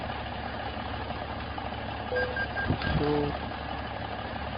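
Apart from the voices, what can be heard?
Kenworth T800 truck engine idling, from a video game mod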